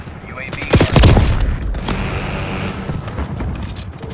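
Gunfire from an Avenger killstreak aircraft circling overhead in a Black Ops 6 Hardpoint match on Babylon, a burst of loud booming shots packed together over about a second, then fading into a rumbling tail.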